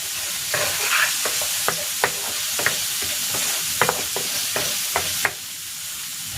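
Mixed vegetables stir-fry in a hot pan for chicken fried rice, a steady close sizzle broken by repeated sharp scrapes and clacks of the spatula at an irregular rhythm.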